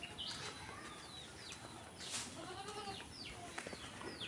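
Goats on a rural Bangladeshi farm bleat repeatedly while being fed fresh grass, several wavering cries at moderate distance over outdoor ambience, with faint bird calls in the background.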